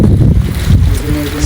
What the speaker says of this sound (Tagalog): Tapos mahangin pa.